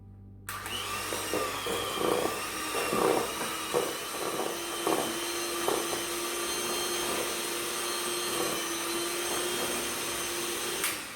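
An electric mixer steadily whirs while eggs are beaten into oatmeal chocolate chip cookie dough, with a few soft bumps and knocks from the bowl throughout.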